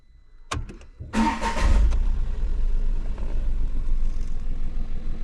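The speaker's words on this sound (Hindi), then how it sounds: "अब गाड़ी को मैं स्टार्ट करता हूँ" A Tata Tiago car engine cranks with a short burst of starter clatter and catches, then settles into a steady, close idle hum that carries on to the end.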